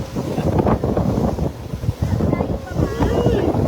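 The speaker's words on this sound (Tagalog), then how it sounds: "ang tawag namin dito ay hinihili-hili ka ng alon" Sea waves slosh against and rock a small boat out on open water, a steady loud wash of water and wind buffeting close to the microphone with no pauses.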